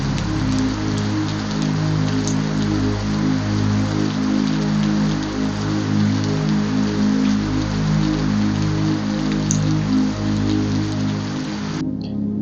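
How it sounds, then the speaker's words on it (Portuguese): Heavy rain pours steadily and close, a dense unbroken hiss of drops drumming on surfaces for the whole stretch, with no speech and a faint low hum beneath. "Tá caindo uma chuva abençoada aqui, muito boa."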